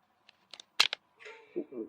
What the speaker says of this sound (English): The marshal will hear the sound of a gunshot.